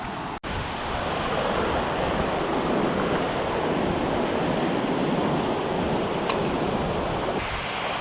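Ocean surf rolls and washes continuously on a foggy beach at low tide with onshore wind buffeting the microphone, a steady broad roar close by and no one talking.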